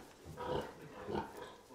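Pigs eating in an intensive livestock barn, with two soft, muffled grunting snuffles against a steady background hum, faint and close together.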